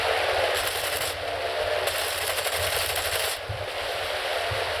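Rapid automatic gunfire from a P-200 in a video game, a dense, loud rattling stream with brief gaps between long bursts.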